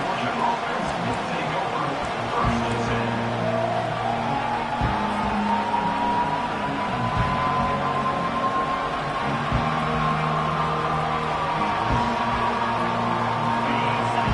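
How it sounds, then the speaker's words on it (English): A steady, loud football stadium crowd roar fills a large open space throughout, with a voice talking over it. "This crowd bringing the energy and noise early."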